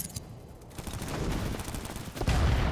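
Sniper fire in the shooter game Battlebit, with gunshots cracking amid a dense wash of battlefield noise and a louder report near the end.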